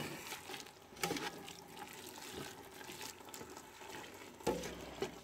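Sweet cucumber relish being stirred in a pot, a soft wet scraping and sloshing with a few louder clinks of the spoon against the pot, fairly quiet and with no talking.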